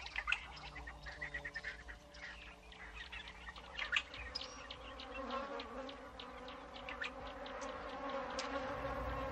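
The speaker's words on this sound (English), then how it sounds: "African bees, like everything else, are desperate for sustenance." African bees swarm in a hot, dry landscape, their dense buzzing steady and close throughout, with scattered bird chirps and tweets mixed in the background.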